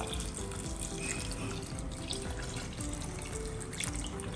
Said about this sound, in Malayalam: ഇതൊന്നും മുങ്ങി നിൽക്കത്തക്ക രീതിയിലുള്ള വെള്ളം ഒഴിക്കും